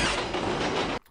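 A subway train in the film Ghost rumbles and clatters loudly and steadily for about a second, then cuts off abruptly into near silence.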